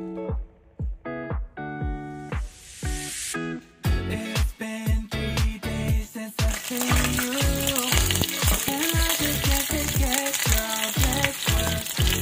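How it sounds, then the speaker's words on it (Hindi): Tadka tempering sizzling in a hot pan, an uneven run of sharp crackling bursts and spits that thicken into a dense, steady sizzle, loud and close with no talk. "और जी बस यहाँ पे तड़का"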